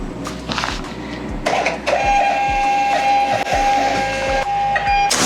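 Thermal label printer running off shipping labels, a steady mechanical whir with a sustained high tone and repeated short feed pulses, close and fairly loud throughout.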